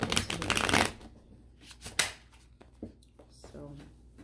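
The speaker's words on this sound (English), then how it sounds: "Okay, so I'm gonna cut the deck, quick shuffle, and then jump into it." A deck of tarot cards is cut and given a quick shuffle, a dense papery riffle close to the mic for nearly a second, then a few lighter card flicks and taps while a person talks.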